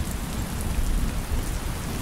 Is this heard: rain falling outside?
yes